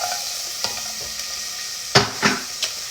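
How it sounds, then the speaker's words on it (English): Onions tipped into hot oil, a soft steady sizzle punctuated by several sharp clattering stirs and scrapes against the pot, louder toward the end. "the first thing I'm going to do is add onions"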